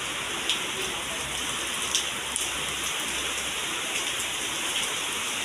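Heavy monsoon rain pours outside a home in a strong wind, a dense, even hiss that holds steady throughout with a few slightly louder drop impacts and no voices.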